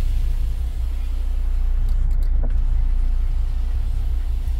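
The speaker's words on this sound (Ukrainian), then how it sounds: "автоматичні склопідйомники на всі вікна" Electric power windows in a car whir briefly and faintly over a steady low rumble from the vehicle.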